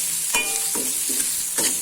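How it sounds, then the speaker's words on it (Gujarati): Kantola sambharo, a spiny gourd relish, being stirred in a hot pan: repeated scraping strokes roughly every half second over a steady frying sizzle, close and alone. "આ રીતના આપણે સતત હલાવતા રહેવાનું છે એટલે બધી બાજુ જળી જાય"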